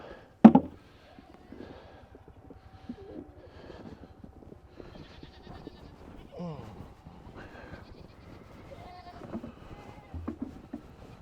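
Goats bleat now and then in the snow, some close and some farther off, with a person talking quietly between the calls and a sharp knock near the start.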